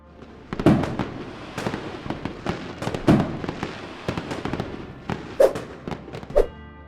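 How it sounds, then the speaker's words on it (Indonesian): Fireworks bursting over the Space Needle in Seattle, Washington, for New Year: repeated sharp booms and crackling explosions at irregular intervals, loud with echoing tails. "mengadakan pesta kembang api virtual yang gak kalah menarik"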